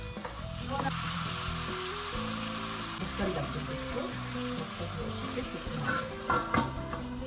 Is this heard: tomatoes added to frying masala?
yes